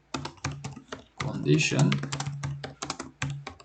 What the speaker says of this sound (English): I'm just typing something out